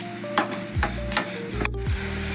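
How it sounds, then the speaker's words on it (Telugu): Bitter gourd pieces coated in chili powder fry with onions in a pan, giving a steady sizzle with stirring scrapes beneath louder background music. "కారపొడి పెట్టుకున్న కాకరకాయల్ని ఆనియన్లో వేసుకోవాలి. ఒక 5 minutes వేగాలి."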